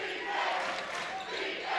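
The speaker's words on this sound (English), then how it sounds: "Crowd's getting into it now" Spectators at a women's college basketball game, OC Lady Eagles against Texas A&M Kingsville, make a broad, sustained roar of cheering and yelling that swells in the arena, with no clear speech over it.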